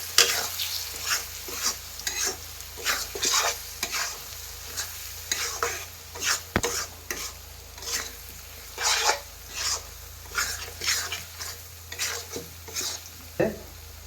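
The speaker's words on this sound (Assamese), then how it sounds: "ভালকৈ লৰাই দিছোঁ।" Spice paste with Kashmiri chili frying in a pan, stirred with repeated rhythmic scraping strokes over a constant close sizzle, no voices.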